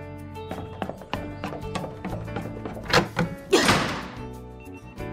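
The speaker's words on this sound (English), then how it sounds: "You're going to break that door." Hard banging on a door in an animated children's show, with a run of heavy wooden thumps and a loud slam-like crash partway through.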